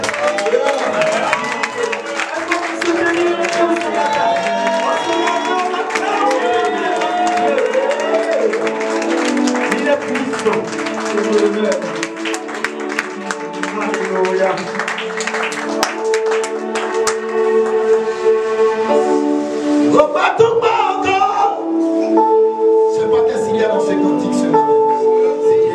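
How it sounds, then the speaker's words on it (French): A worship congregation claps and cheers in a long, sustained roar of applause and shouts, with sung or called voices and tonal music running through it. "je veux que nous donnions une offrande d'acclamation à Jésus-Christ de Nazareth"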